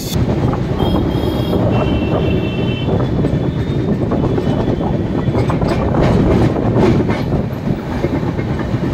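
Inside the Tamralipta Express running from Howrah toward Digha, a loud steady rumble of the moving train with rhythmic wheel clatter and wind buffeting throughout, no talking.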